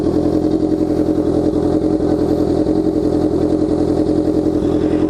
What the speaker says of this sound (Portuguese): Esse aqui é o ronco do meu G-Escape, que tá na CB650F.